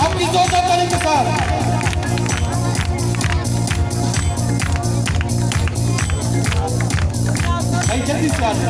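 A crowd at a live worship meeting in Tara Garh claps loudly and continuously in a steady, dense rhythm, with voices and other sound running underneath throughout.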